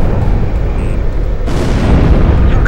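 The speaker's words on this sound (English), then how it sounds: "You got us through all that flak!" Anti-aircraft flak bursts boom and rumble continuously around a fighter jet in Ace Combat 5, a dense, loud roar of explosions that sharpens and brightens partway through.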